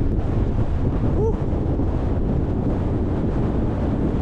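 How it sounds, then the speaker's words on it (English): Strong warm wind buffeting the microphone on an exposed hillside at Alport Castles, a loud, unbroken roaring rush throughout. "Warm wind, but still a strong wind."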